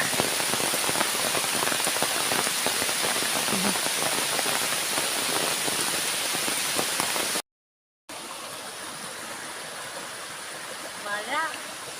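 Heavy rain pours in a dense, steady roar, briefly cut off, then resumes with a short voice heard near the end.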